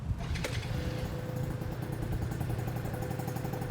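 A Yamaha BWS 50 scooter engine idles after a cold start with choke, a quiet, steady small two-stroke putter with light clattery texture, heard up close with some wind noise.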